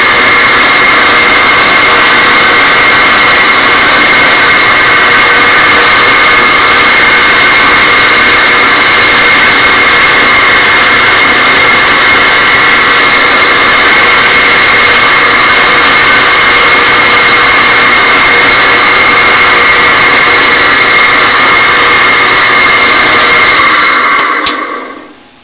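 A drill press with a large 15/32 bit runs with a loud, constant mechanical whine and hum for a long stretch, then winds down and stops at the very end.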